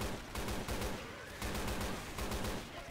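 Sustained gunfire in Left 4 Dead 2 crackles in rapid bursts, fairly loud and near, with short pauses between volleys.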